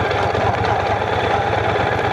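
A 1200cc motorcycle engine rumbles steadily in first gear at low speed, a close, loud, throbbing low-pitched drone with a regular pulse throughout.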